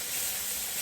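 Onions sizzling in a pan during preparation of a chuck roast with carrots and potatoes, a steady close bright hiss with no pause.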